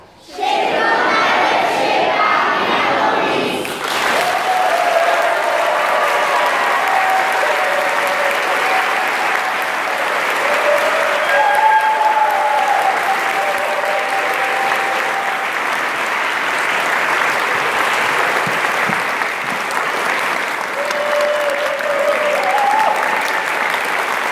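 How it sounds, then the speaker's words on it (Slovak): Audience applause, a dense and steady roar of clapping with some cheering that keeps going at full strength for over twenty seconds. "Potlesk patrí vám."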